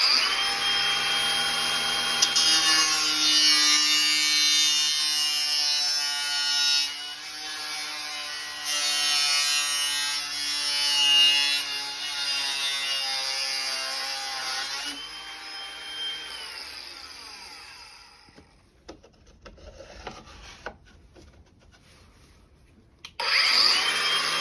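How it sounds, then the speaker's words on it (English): A power tool whines steadily at high pitch while cutting a slot in a piece of pipe held in a vise, its tone wavering under load for about eighteen seconds before it cuts out, then a brief restart at the end. "Use a vise to hold the bit of pipe while I cut the slot in it."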